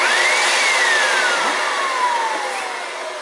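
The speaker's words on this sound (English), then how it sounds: "The motor sounds amazing. Awesome. Not a speck of bearing sound." A vacuum cleaner motor runs right after being switched on, a loud, close, steady whine whose pitch rises briefly and then slowly falls, with a constant airy roar underneath.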